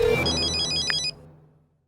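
A telephone rings late at night indoors, a short burst of electronic ringtone chimes that cuts off abruptly and fades into quiet.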